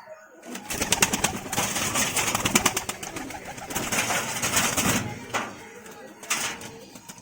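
Newly brought home pigeons cooing close by, with soft repeated throaty coos layered over rustling and fluttering movement, fairly loud and continuous, while someone talks over them in places.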